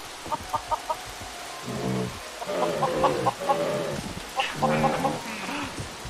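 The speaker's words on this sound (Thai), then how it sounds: "โอ้โห ไก่" A chicken in the blocky sandbox game Mini World Block Art clucks in short, repeated bursts, fairly close, while someone talks excitedly over it.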